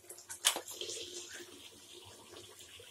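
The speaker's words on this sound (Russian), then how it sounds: "наполнить ванну и поплавать в ней" A bathtub being filled with water from a tap for a Cape monitor lizard, with a gushing splash at the start settling into a steady, fairly quiet stream of running water close by, with no talk.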